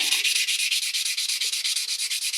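Brass is hand sanded with 320 grit sandpaper in one direction, giving quick, even rasping strokes in a steady back-and-forth rhythm, close and fairly loud, with no talking.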